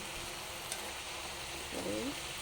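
Pui sag (Malabar spinach) with prawns frying in a pan, a steady soft sizzle throughout with a brief clink and a short stirring scrape near the end.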